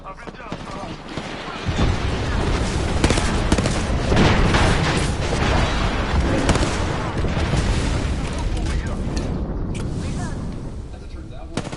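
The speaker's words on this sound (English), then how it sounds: "Signaling an airstrike." Airstrike in Apex Legends, with a dense barrage of booming explosions rolling continuously and loudly, one blast after another, with faint voice fragments mixed in.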